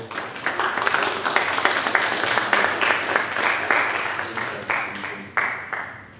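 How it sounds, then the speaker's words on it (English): A live audience at a Mandela Day discussion breaks into applause, dense overlapping claps holding steady before tapering toward the end, with a voice faintly underneath. "Give her a round of applause real quick."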